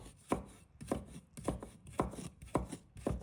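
A kitchen knife knocks repeatedly against a wooden cutting board while shredding fresh ginger, seven or so sharp close chops in a steady rhythm with a faint scraping between strokes and no voices.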